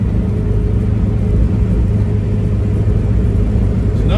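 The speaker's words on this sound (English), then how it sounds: "We're just trundling along now at a steady 40 mile an hour" A 1956 Morris Minor split-screen two-door cruises steadily at about 40 mph, its engine giving a constant low rumble with road drone, loud and close from inside the car.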